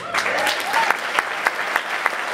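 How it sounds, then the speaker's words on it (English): An audience claps, a loud, dense burst of applause with sharp individual claps throughout, and no speech over it. "As he begs for needless applause"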